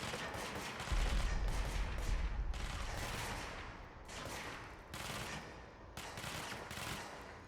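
Gunfire in the Control video game aimed at the player: bursts of rapid shots with a heavy low thump near the start, continuing in uneven volleys over a busy game soundscape.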